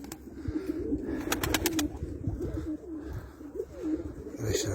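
Several pigeons coo repeatedly inside a loft, a steady, close layer of soft rolling calls, with a few brief sharp tonal chirps in between.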